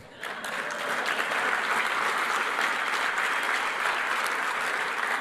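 Loud, steady applause from a large audience at a Pollstar awards speech by Paul Stanley, a dense wash of clapping that swells in quickly and sustains evenly to the end.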